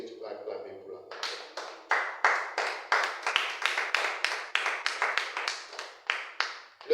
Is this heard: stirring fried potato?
no